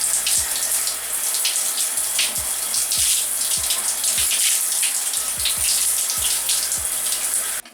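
Steady running tap water pours continuously while conditioner is rinsed out of hair, a close, loud wash with small splashes and drips breaking through the flow.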